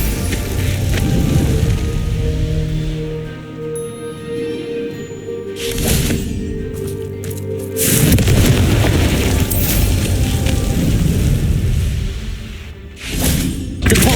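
Fiery Confringo spell blasts in Hogwarts Legacy combat: several loud, close booming bursts and heavy thuds rise out of a dense, continuous game soundscape, with no talking.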